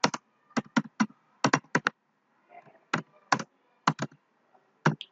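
Keystrokes on a computer keyboard while entering input for a Python program, sharp separate clicks in short quick bursts with pauses between them, close and clear with a faint low murmur.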